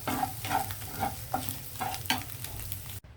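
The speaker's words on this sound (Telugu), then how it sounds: "ఎగ్ ఈ విధంగా వేయిస్తే సరిపోతుందండి" Scrambled egg fries in a pan while a spatula scrapes and stirs it in a repeating rhythm over a soft, steady sizzle that stops abruptly at the end.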